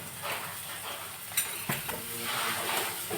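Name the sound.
onions frying in hot oil for Goan prawns sukha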